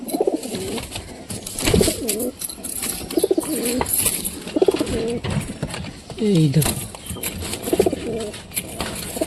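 Pigeons coo softly and repeatedly close by at a nest where chicks have hatched, their low warbling calls running under a person's speech throughout.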